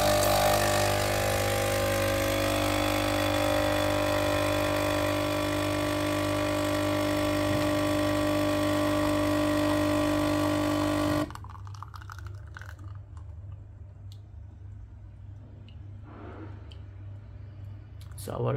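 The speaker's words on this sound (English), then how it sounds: "So let us go for the espresso shot." Nespresso machine brewing an espresso shot from a Scuro capsule, a loud steady pump hum and buzz that cuts off partway, followed by quieter drips and faint clicks, with a voice heard briefly.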